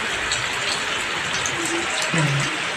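Rain falls steadily in Punjab, a dense, even hiss of drops throughout, fairly loud and close, with a faint tonal sound briefly rising above it near the end.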